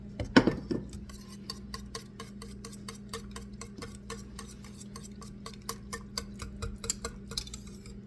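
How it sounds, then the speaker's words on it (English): Four eggs are beaten into rice pudding in a bowl with a utensil, making steady quiet tapping and clinking strokes in an even rhythm, near and clear with no talking. "Now we're going to put these 4 eggs in here and mix it up thoroughly"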